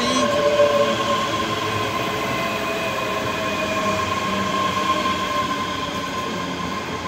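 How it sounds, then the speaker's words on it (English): ScotRail class 385 electric train at Edinburgh Haymarket station on the Glasgow Queen Street to Edinburgh Waverley service, a steady close rumble with faint whining tones and wheel hiss throughout. "1324 Scotland service from Glasgow Queen Street to Edinburgh Waverley, 385016."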